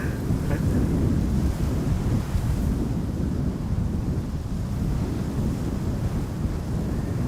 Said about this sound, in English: the wind is actually picking up